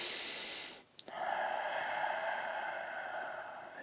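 Slow, airy breathing during a cobra stretch after running, a long exhale, a brief sharp sniff, then another steady breath, close and soft.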